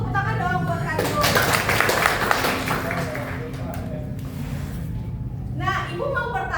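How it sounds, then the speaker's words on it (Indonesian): Indonesian school class applauding themselves, a burst of many hands clapping that rises after a teacher's voice and fades over several seconds, with talking before and after. "tepuk tangan dong buat kalian"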